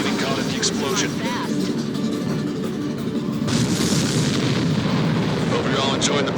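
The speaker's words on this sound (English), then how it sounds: "The missile hit its target. Everybody, keep a safe distance to avoid getting caught in the explosion." A missile explodes in the Ace Combat 7 flight combat video game: a continuous roar of jet engines and rumbling blasts, with a heavier burst about midway and faint radio-style voices under the din.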